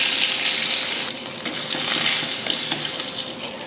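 Mustard seeds, urad dal and fenugreek seeds sputtering in hot oil, a dense continuous sizzle with scattered crackles and pops, close and steady throughout.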